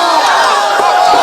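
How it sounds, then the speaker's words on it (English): A bloodthirsty wrestling crowd chants loudly at close range, a dense roar of many voices with rhythmic shouted pulses over a brief burst. "Crowd bloodthirsty here, chanting one more time"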